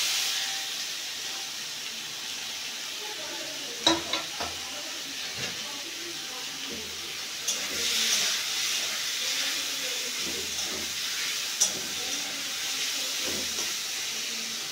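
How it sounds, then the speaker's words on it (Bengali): Onions sizzle in hot oil for a gura fish curry, a steady close hiss of frying with occasional crackles and light clinks of a utensil. "এখন পেঁয়াজগুলি দিয়ে দেব।"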